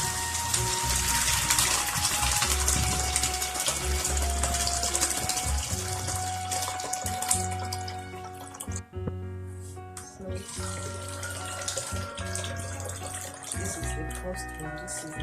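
Water running and gushing while the soaking water for bean cakes is changed, a steady rushing flow that thins toward the end, with some background sound mixed in.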